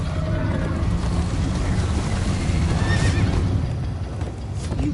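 Horse neighing and galloping in the Minecraft Story Mode video game: a loud whinny rises midway over steady clip-clop hoofbeats and a dense, continuous rumble of game action.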